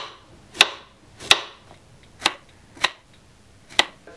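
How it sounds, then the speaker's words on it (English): A knife slices courgette into small pieces on a board, five sharp, close cuts spaced roughly every half second over a quiet background. "I start slicing the courgette in small pieces"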